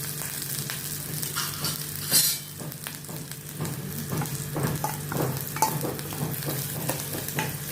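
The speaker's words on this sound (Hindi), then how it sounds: "इसको भी मैं लहसुन और अदरक की पेस्ट के साथ अच्छी तरह से मिक्स करके थोड़ा सौते करूँगी" Chopped onion sizzles steadily in hot oil while a spoon repeatedly stirs and scrapes the pan, with a sharp clatter early on.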